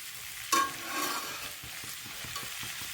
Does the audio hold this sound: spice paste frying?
yes